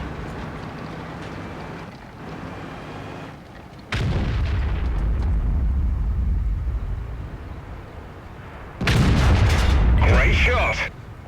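A tank destroyer's large-caliber gun firing a high explosive shell in World of Tanks, two heavy booming blasts with rumbling decay, the second louder with sharp crackling impact noise.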